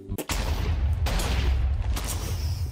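Explosions and gunfire from the video game Atomicrops form a dense barrage of booms and bursts, loud and continuous with a few sharper cracks.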